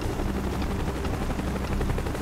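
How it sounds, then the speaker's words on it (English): Helicopter arriving in the video game Call of Duty Black Ops, a continuous loud rotor roar with rapid chopping pulses, steady throughout with no talking. "Chopper's inbound! Move it!"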